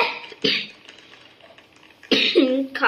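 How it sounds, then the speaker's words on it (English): Two short coughs, one near the start and one near the end, each a quick rough burst with quiet in between. "Cough."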